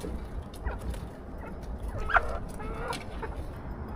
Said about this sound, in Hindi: आवाज़ें निकाल रही हैं मुर्गियाँ, मैं आपको सुनाती हूँ